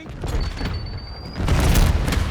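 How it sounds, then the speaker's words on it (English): A frag grenade exploding in a Call of Duty match, a loud booming blast that swells into a heavy, sustained low rumble amid game noise. "Throwing frag."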